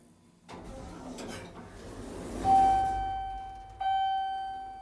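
An Access Flexi-Lift elevator in a church in Erie, PA chimes over its steady running hum, sounding a clear sustained tone followed by a second chime near the end as the car travels.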